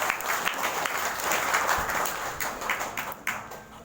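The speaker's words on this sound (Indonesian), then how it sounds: "Tepuk tangan dulu kita untuk" A crowd applauds steadily at an evening Maulid celebration, dense clapping filling the whole stretch at a fairly loud level with no voices on top.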